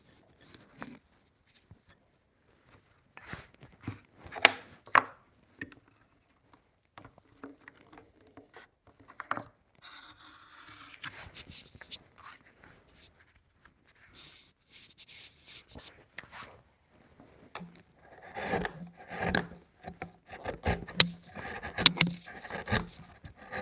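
A hand chisel is honed on sandpaper backed by a block at a woodworking bench, giving scattered quiet rasping strokes that grow busier and louder toward the end.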